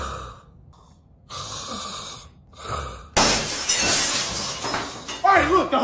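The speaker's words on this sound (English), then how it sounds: "Did you just break through my window?" Window glass shatters in a house, a sudden loud crash that bursts in after quieter stretches of breathing and snoring-like sounds, with scattered pieces tinkling afterward.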